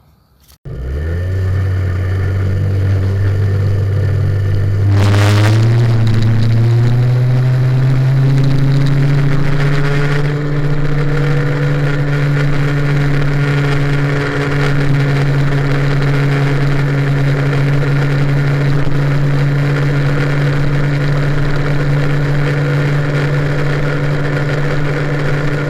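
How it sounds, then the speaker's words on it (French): An MBK 51 moped with an Airsal T4 kit, running on its variator with 13.5 g roller weights: the engine starts, then revs and settles into a steady, loud, sustained drone with a constant buzzing tone throughout. "je rajoute un petit poids et je passe donc à 13 grammes et demi"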